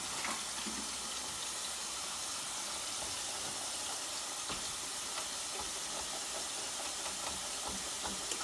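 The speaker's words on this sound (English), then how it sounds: "I'm going to rinse my beans off." Water runs from a kitchen faucet over rinsed beans in a steady broadband hiss, continuous and close, with small splashes and rattles mixed in and no talk.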